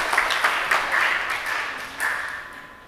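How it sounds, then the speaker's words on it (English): A conference audience applauds a speaker, with moderate clapping spread through the room and several swells, heard at a distance. "Let's give big applause to Professor Riza."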